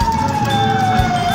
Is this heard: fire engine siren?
yes